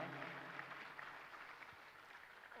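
Audience applause at an academy event congratulating students on their IIT results: a steady wash of clapping hands throughout the short stretch, moderately loud and unbroken, with no voices over it.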